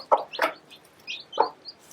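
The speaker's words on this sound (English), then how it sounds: "we have moved little black hen out of the box" Clucking from a little black broody hen moved out of her box to a ground nesting area with her chicks: a few short, low clucks spaced through two seconds, with faint high chick peeps between them.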